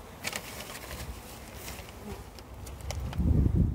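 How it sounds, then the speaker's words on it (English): A steady insect buzz of many honey bees leaving a hive hums throughout, with a busier low drone swelling near the end as they fly close by. "So the rest of the bees are finding their way out"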